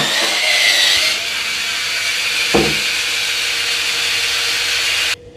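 A Dovety electric spin scrubber runs on low speed, giving a steady close whirring motor hum with a brushing texture for about five seconds, one brief knock midway, then cutting off.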